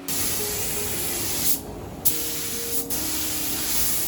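Spray gun hissing steadily as a car is painted inside an enclosed paint oven at a garage in the Volta Region of Ghana, with two brief pauses in the continuous close spray.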